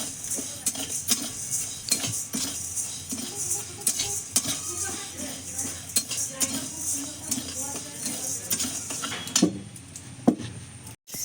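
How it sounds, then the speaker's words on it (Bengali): Urad and mung lentils dry-roasting together in a kadai (wok), with near, repeated scraping and clinking of a spoon stirring the dry grains against the metal pan. "কড়াই দিয়ে দেবো এই বিউলির ডাল আর মুগের ডাল একসঙ্গে হালকা করে একটু ভেজে নেব"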